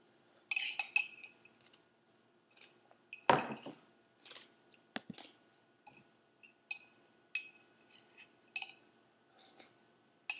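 A spoon clinks and taps against a glass of snow apple juice while it is stirred, producing a series of sharp, bright chinks at irregular intervals, close and clear with quiet gaps between them.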